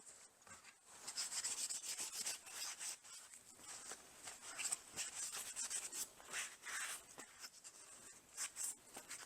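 A rag wipes excess stain off small pieces of scrap wood, producing soft, quiet, irregular rubbing and scuffing strokes close by with no talking.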